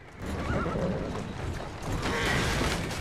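A horse neighs in the Victorian London setting of the video game Assassin's Creed Syndicate, a loud, close whinny rising and falling over a few seconds, with faint mechanical creaks and hoof clatter behind it.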